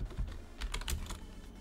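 Typing on a computer keyboard, a short quick burst of close key clicks and taps in an uneven rhythm, fairly quiet, with no speech.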